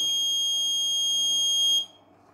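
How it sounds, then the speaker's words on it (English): A steady electronic school bell buzzer, driven by an Arduino with a DS3231 clock module, drones continuously for nearly two seconds, then cuts off abruptly, leaving quiet room noise. "only 5 seconds buzzer on then off"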